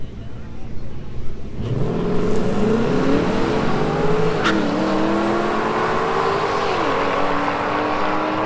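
A 2019 Mustang GT running E85 launches down a drag strip, its engine note rising sharply from idle into a loud, sustained rev that climbs through the gears with brief dips at each shift, steady and close throughout.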